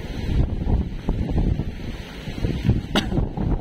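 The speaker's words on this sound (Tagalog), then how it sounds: "Taas na yung alon, no? Hangin na," Strong wind gusting near boats at the shore, with rough waves rushing and splashing in a dense, close, blustery roar.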